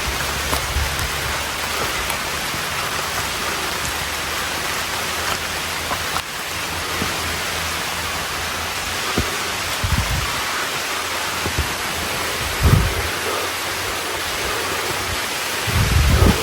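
Steady rain falls on a hiking trail, a dense continuous hiss with occasional low rumbles of thunder in the distance, no voices over it.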